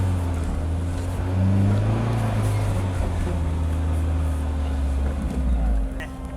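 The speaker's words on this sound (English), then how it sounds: "we get to drive it on the trailer now because it's still not road legal" A barn-find project car, not road legal, drives up onto a trailer, its engine a steady low hum that swells slightly and then drops, with people talking nearby.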